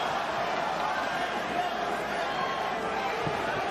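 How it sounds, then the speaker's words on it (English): A large arena crowd at a professional boxing match chants and roars in a steady, dense wash of voices, with the noise staying even and continuous throughout. "And the crowd reacts to the chant of Loma again."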